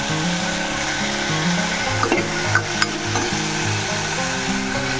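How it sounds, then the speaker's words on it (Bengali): Chicken pieces going into a pan of oil with a fried paste of onion, garlic, ginger, green chilli and tomato, a steady sizzle with stirring and a few clinks of a spoon against the pan. "সবগুলো একটুখানি তেলের মধ্যে ভাজা ভাজা করে নিলাম। এবার চিকেনটা দিয়ে দেবো।"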